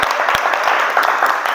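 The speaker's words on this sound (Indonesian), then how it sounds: "Tepuk tangan untuk teman kalian dulu" A classroom of students clapping for their classmates, brisk close applause with sharp individual claps standing out over a steady patter, brief and lively.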